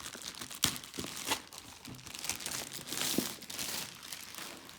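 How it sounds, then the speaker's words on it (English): Plastic packaging crinkles and tears in bursts, close and fairly quiet, as a Sideshow 1/6 scale Freddy Krueger collectible figure is pulled free of its wrapping. "Take it out of the plastic here."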